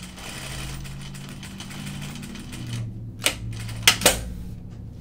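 Sewing machine stitching fabric while sewing Burnside Bibs with a large D-ring attached; a steady mechanical hum runs through the first few seconds, then drops away, leaving a few sharp clicks and handling noises.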